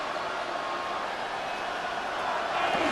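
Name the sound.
stadium crowd cheering in Madden NFL 26 video game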